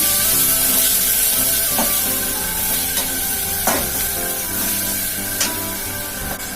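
Vegetables sizzle steadily in a hot pan while a spoon scrapes and stirs through them, with occasional sharper clinks against the pan.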